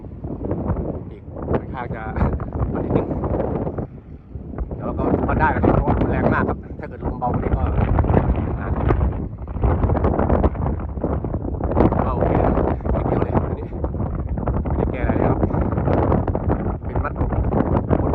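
Strong sea wind buffets the microphone throughout on a beach while a kite is being flown, a loud, continuous roaring rumble with gusty surges, and someone talks over it.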